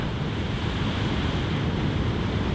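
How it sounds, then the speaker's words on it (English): Big ocean waves surge and crash against rocks along a rocky coastline near Los Angeles, a loud, continuous roar of surf with wind rushing across the microphone throughout. "Oh my God, look at this wave."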